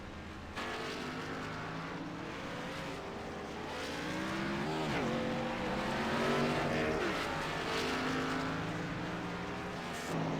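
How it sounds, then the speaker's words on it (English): Race cars lapping the track at Charlotte Motor Speedway during All-Star Race practice: a steady engine roar that rises and falls as cars pass by, continuous and fairly distant, with no talking. "We got a few cars still on the track trying to get last of their times in."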